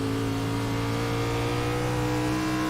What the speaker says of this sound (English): You hear the car, and you see it through the windshield as well.